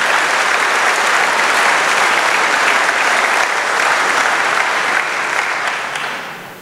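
Audience applause at a German panel talk on the future of work, dense and loud clapping from a large crowd that holds steady and then fades out toward the end.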